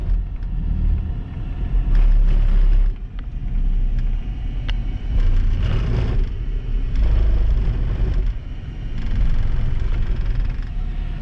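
A truck on a highway near a turnpike entrance, heard as a steady, loud road rumble of tires and engine that swells and eases over several seconds, with no talking.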